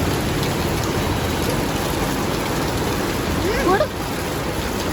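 Heavy rain pours outside in a dense, continuous roar that fills the background, with a brief squeaky chirping sound near the end cutting across it.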